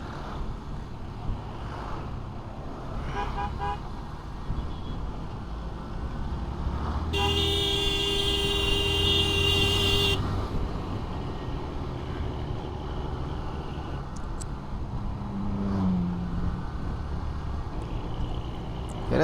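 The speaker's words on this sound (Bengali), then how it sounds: "এই রাস্তায় প্রচুর গাড়ি চলাচল করে," Busy road traffic rumbles steadily with wind buffeting, and one long, loud vehicle horn blares for about three seconds midway before the traffic noise carries on.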